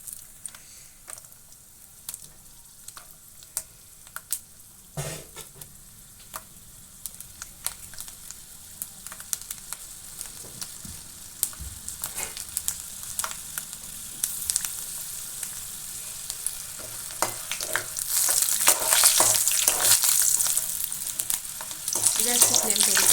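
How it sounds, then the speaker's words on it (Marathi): Peanuts frying in oil in a kadhai for chivda, a soft crackling sizzle with light stirring clicks that builds steadily louder toward the end. "मी आधी शेंगदाणे टाकते तळायला. शेंगदाणे तळून घ्यायचे."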